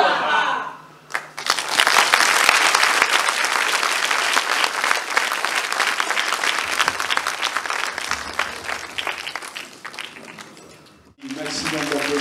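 Audience applause at a stage show paying tribute to Edith: a large crowd claps loudly and steadily for several seconds, then fades out, with brief speech heard before and after.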